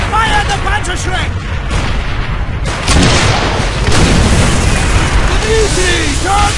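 Panzerschreck rocket fire and blasts in the video game Call of Duty: World at War: loud, dense booms and rumbling explosions roll on without pause, with shouting voices mixed into the battle din.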